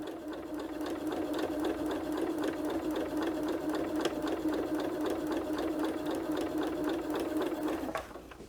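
A sewing machine stitching fabric pieces for a flag fence rail quilt block runs in a fast, even mechanical whir with rapid needle ticks, then stops abruptly near the end.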